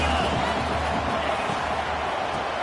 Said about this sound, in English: And you just know the home crowd is loving this.